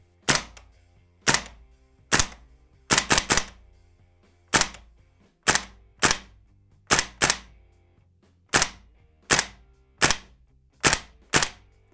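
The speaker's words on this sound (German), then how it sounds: "Geben wir mal ein paar Schuss ab." A VFC HK PSG-1 gas blowback airsoft rifle fires sixteen sharp, loud, close shots with no talk, mostly spaced about a second apart, with one quick triple burst and a few paired shots.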